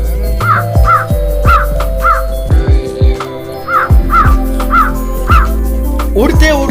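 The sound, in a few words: crow cawing as it flies away in a cartoon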